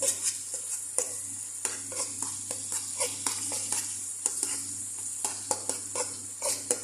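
Shrimp and rice are stirred in a hot pan, sizzling steadily under repeated scraping strokes of the utensil against the pan in an uneven rhythm.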